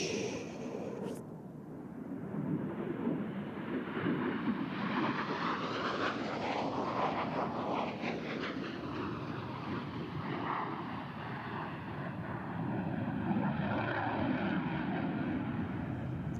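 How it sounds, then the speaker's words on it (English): A Super Hornet jet makes a quiet inverted pass at an air show, a broad roaring whoosh that swells and sweeps past with a shifting tone, then lingers as a steady distant rumble. "Ladies and gentlemen, from the right, the Super Hornet inverted Whisper Pass."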